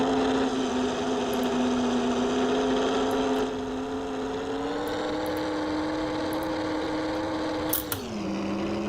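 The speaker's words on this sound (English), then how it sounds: "maybe the engine sound is just way too fucking loud" A steady, loud engine drone plays from a 1930s-era racing car in the Assetto Corsa VR racing game, holding a constant pitch before dropping briefly as the car shifts or slows near the end.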